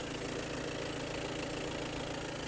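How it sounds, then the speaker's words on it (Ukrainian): A 2020 Skoda Kodiaq Laurin & Klement 4x4 idles with its hood open, giving a steady, close, low mechanical hum with an even pulsing beat and no talking. "Заглянемо під капотний простір. Моторчик працює дуже гарно."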